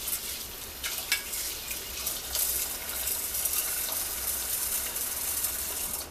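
Water poured into a pot of rinsed rice, a continuous close splashing trickle that keeps going for several seconds with no voices.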